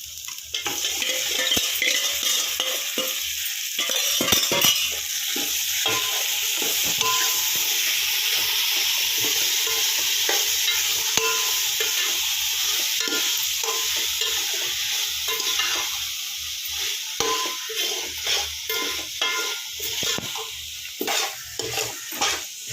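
Marinated chicken with turmeric, garlic-ginger paste, chili powder and salt dropped into a hot pot for biryani, giving a loud, steady sizzle and hiss with stirring and scraping against the pot, no talk.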